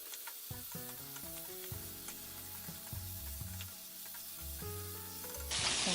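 Eggplant with green onion and black pepper is stir-fried in a pan, sizzling steadily and loudly throughout. A spatula scrapes and tosses the food in repeated strokes, and a burst of hiss comes at the end.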